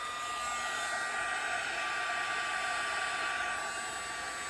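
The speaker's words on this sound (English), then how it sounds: "I'm going to grab my heat gun again, and I'm going to just melt it." A heat gun blows with a steady, loud, even whoosh and a faint high whine as it melts craft material, running unbroken and close throughout.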